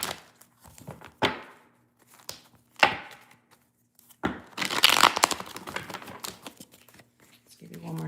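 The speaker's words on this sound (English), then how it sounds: "let's shuffle these cards good for my Leos" Tarot cards shuffled by hand in a quiet room: a series of brief papery riffles and slaps with pauses between them, then a longer, denser bout of rapid card flutter.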